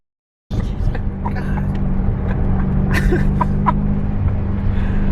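A BMW M5 F90 with all-wheel drive drives along, its engine a steady low drone heard from inside after a sudden start, with brief throat sounds and exclamations over it.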